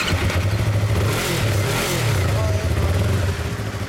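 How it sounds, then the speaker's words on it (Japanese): A 2016 Yamaha MT-25 motorcycle engine revs steadily at close range, its low throbbing idle rising and falling through a few throttle blips over several seconds. "エンジン音聞かせてもらえる？"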